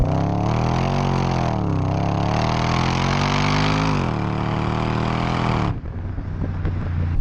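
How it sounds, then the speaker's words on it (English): Supercharged Jaguar XFR V8 revving hard through its exhaust, a loud raspy drone rising and falling in pitch for several seconds before dropping off to a rougher lower idle. "it has that raspy V8 sort of blah,"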